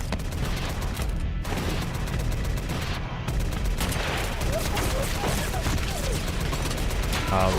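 Gunfire in the Fallout 1 video game is aimed at a turret, with rapid, dense crackling shots repeating over several seconds and short breaks in between, and a voice talking over the shooting.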